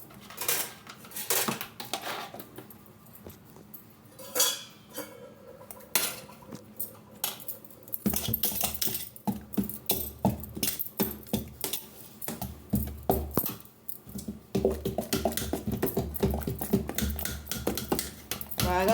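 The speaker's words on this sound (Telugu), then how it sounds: "ఉప్పు అంతా కలపాలి కదా" Salt is stirred into idli batter in a metal vessel, a busy run of close, rapid spoon scrapes and clinks against the sides, with a voice talking at times.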